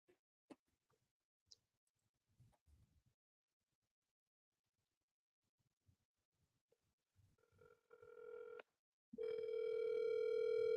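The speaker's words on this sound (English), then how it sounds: "Come on, answer the phone." Telephone ringback tone heard while waiting for someone to pick up a call, a loud steady tone entering near the end after scattered faint clicks and quiet sounds, continuing to the close without anyone talking.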